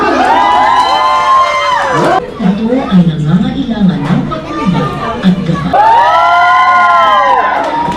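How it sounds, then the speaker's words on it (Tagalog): Children and adults at a birthday party burst into loud shouting and cheering, which fades into busy chatter midway and then swells back into a sustained roar of shrieks and whoops. "Sigawan!"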